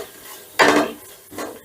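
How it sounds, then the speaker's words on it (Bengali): Whole cumin, dried red chilies and bay leaves fry in oil and ghee over low gas, stirred with two short, close scraping strokes of a utensil against the pan over a faint sizzle. "এবারে গ্যাসের আঁচটা লোতে রেখে ফোড়নটা হালকা একটু নাড়াচাড়া করে নিচ্ছি"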